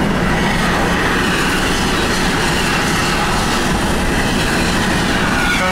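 A train passes close by on a road between Migliarino and Torre del Lago, loud rumbling with a steady rhythmic clatter of wheels on rails throughout, no voices.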